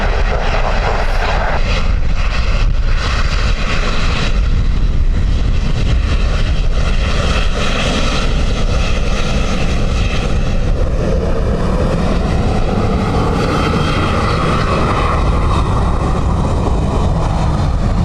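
A fixed-wing airliner arriving at Dublin Airport on a windy day roars loud and steady throughout, its engine noise rising and shifting as it passes close by, with wind buffeting in the background.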